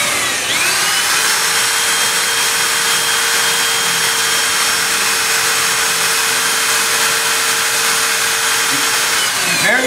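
A power drill bores through metal on a Toyota Land Cruiser, a loud steady whine that runs continuously for nearly ten seconds, starting and stopping abruptly, close up with no talk.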